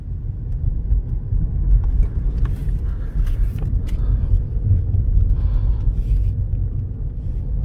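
A 2017–2018 Ford Fusion Energi Titanium plug-in hybrid drives on electric power alone, heard from inside the cabin as a steady low road rumble with faint tire noise and no engine note.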